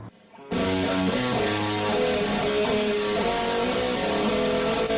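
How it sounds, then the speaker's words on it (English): Electric guitar run through a virtual amp and cabinet emulator, after a brief quiet start a dense, saturated wall of sustained chords that holds steady and loud to the end. "I had this virtual amp and this cabinet emulator on there, which made it sound like this."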